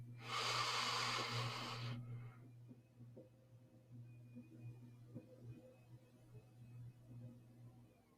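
A long, loud breath drawn or released steadily for about two seconds during a guided breathing exercise, followed by quiet, softer breathing over a low steady hum.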